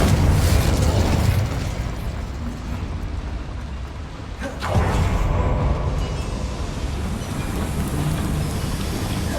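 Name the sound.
spell explosions (Bombarda, Confringo) in Hogwarts Legacy video game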